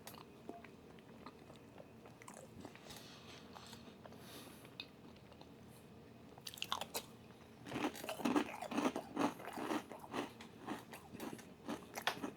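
Someone eats a chili cheese dog and spicy nacho Doritos up close, with faint chewing giving way to louder, repeated crunchy bites and chewing.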